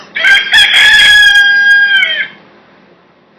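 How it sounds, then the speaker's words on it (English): A rooster crows once, loud and close, a strained drawn-out cock-a-doodle-doo of about two seconds that fades into quiet. "That's an early rising cock right there."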